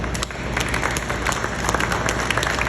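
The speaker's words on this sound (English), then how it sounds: "I want to have all of you give yourselves a round of applause" Audience applause at a Canadian parliamentary visit to an aerospace manufacturing plant, a dense, steady wash of many hands clapping close by that continues throughout at an even level.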